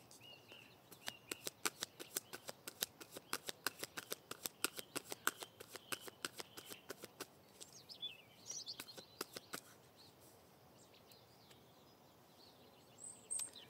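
A deck of tarot cards is cut and handled, giving a rapid run of faint, crisp paper clicks and flutters up close in a quiet room, followed by a brief pause and a last few snaps.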